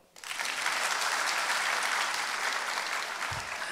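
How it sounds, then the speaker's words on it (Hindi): An audience at a Swami Ramdev event in Patna, Bihar claps steadily and loudly for several seconds, a dense, sustained wash of applause from a large crowd with no talk over it. "ताली बजाओ।"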